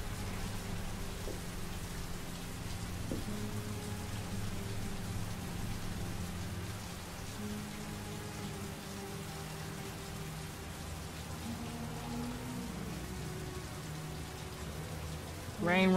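Steady rain falls in the PS3 video game Heavy Rain, a constant soft hiss of drops on surfaces with low background tones and a brief sharp sound at the end.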